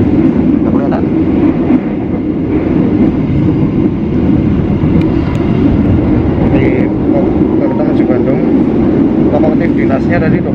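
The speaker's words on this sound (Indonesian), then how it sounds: "Hari ini aku mau mencoba kereta api Batu Raden dari Purwokerto menuju Bandung." Batu Raden passenger train travelling from Purwokerto to Bandung, a steady low rumble of the carriage rolling along the rails heard from inside, continuous and fairly loud with faint higher rattles throughout.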